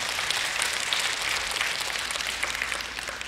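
Steady, dense applause from a large church congregation, a continuous wash of clapping with no pauses, fairly close and even in loudness.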